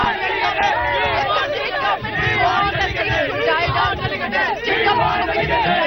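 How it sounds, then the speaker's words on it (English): Large Jallikattu protest crowd in Tamil Nadu shouting and chanting en masse, a dense, loud roar of many voices with overlapping yells and babble that carries on without a break. "really the crowd is already increasing"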